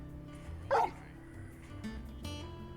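A dog in the video game Final Fantasy 16 gives a single short bark, loud against quiet ambient game sound with soft music underneath.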